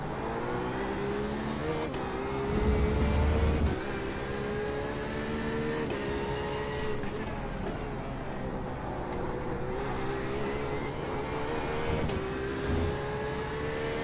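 Porsche 911 RSR race car engines in an iRacing IMSA race at Montreal, a steady loud engine drone with shifting pitch and brief revving swells, heard close and continuous throughout.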